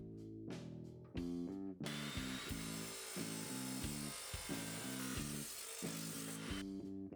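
A power saw cuts through a length of 1/2-inch pipe clamped against a stop, starting with a rising whine and then a loud, sustained grinding cut that runs several seconds before spinning down.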